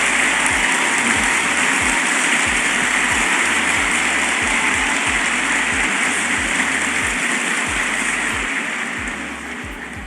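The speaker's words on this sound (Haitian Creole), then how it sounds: "Applaudissons chaleureusement notre président." A large audience gives President Jean-Bertrand Aristide loud, sustained applause, a dense roar of clapping that holds steady and slowly fades toward the end, with a low rhythmic hum beneath.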